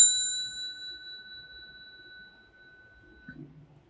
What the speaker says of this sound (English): they have what they call a mindfulness bell